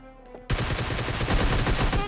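A Groza assault rifle in the video game PUBG opens up on full auto after a brief quieter moment, a loud, close, rapid string of shots running to the end.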